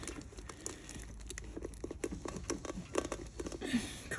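A knife stabbing into and slicing a trailer airbag bag, producing close crinkling, tearing and crunching of the material in irregular quick bursts at low volume, with no speech.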